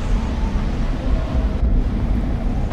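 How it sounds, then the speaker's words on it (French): Strong wind in the video game Beyond: Two Souls blows as a steady, dense roar with a deep rumbling low end, constant and loud throughout with no voices. "Le vent est assez fort pour un esprit comme moi."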